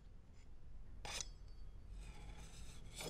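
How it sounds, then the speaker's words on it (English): A knife cutting Danish pastry dough into squares for cherry Danish, heard as a brief scraping cut near the start of the second second, with a fainter second stroke at the end, all fairly quiet. "it's easier for me to cut more precise squares"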